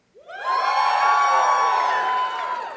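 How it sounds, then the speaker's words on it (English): Audience at a civics trivia game at the National Archives cheering for the answer blue, a sudden loud swell of whoops and shouts that holds steadily for over two seconds before easing. "If it's blue, cheer."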